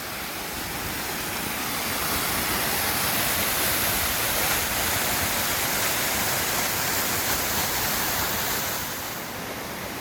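A huge waterfall at an obsidian-strewn spot along the Pacific Crest Trail near mile 1959 roars in a steady, loud broadband rush throughout, with no voices.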